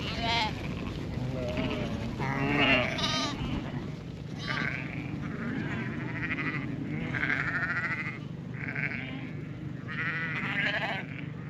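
Sheep and lambs bleat repeatedly in a grassy ryegrass-and-clover paddock on an Australian farm, several overlapping calls at close to mid distance over a steady outdoor background, with someone speaking briefly among them.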